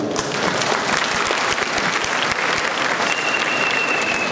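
Sustained loud applause from an audience at an official health campaign launch in a speech setting, steady dense clapping throughout with a faint whistle-like tone near the end.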